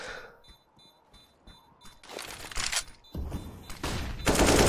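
Gunfire in a first-person shooter game, sparse at first and then heavier bursts of shots, mixed with other game sounds.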